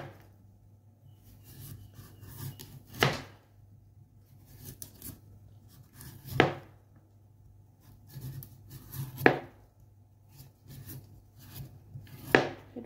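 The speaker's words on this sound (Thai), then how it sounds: "เดี๋ยวให้ดูนิดนึงนะคะตอนปอก" A knife scrapes and shaves the skin off taro in a home kitchen, producing a few sharp, distinct strokes spaced several seconds apart with quiet rubbing between them, close and alone.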